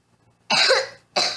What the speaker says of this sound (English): Why suddenly you're coughing?